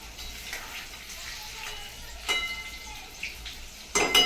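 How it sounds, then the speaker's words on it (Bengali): Chicken neck pakoras fry in hot oil with a steady, close sizzle that runs throughout, broken by a few louder crackling bursts. "একটু ভালো করে লাল লাল করে ভাজতে হবে"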